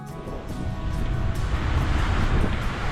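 Blustery wind buffets the microphone over a constant wash of surf, with steady low rumbling and no voices.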